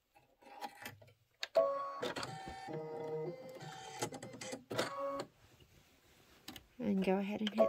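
Home embroidery machine sewing a large satin stitch in white bobbin thread, a rapid mechanical chatter in bursts that stop and restart, with some quiet talk between runs.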